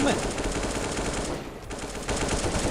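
Rapid automatic gunfire from Counter-Strike 1.6 running a CS:GO-style mod, loud and dense with overlapping shots for nearly three seconds and a brief lull near the middle.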